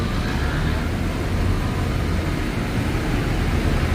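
Steady low rumble of road traffic in Mirpur in light rain, vehicles passing continuously, a broad wash of engine and tire noise at moderate loudness, no clear individual passes.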